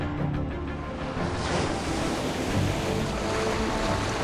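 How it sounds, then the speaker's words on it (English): Ocean waves churned up by an orca pod swimming at high speed, a dense continuous rush of surf and wind-blown water with a deep rumbling undertone, steady and fairly loud throughout. "they unite swimming in perfect synchronicity at high speeds, generating colossal waves"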